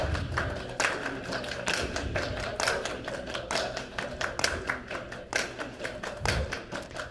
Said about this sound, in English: Every time we feel a pulse, you're going to make 4 equally spaced sounds.